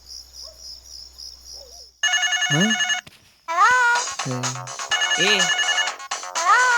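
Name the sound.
telephone ringing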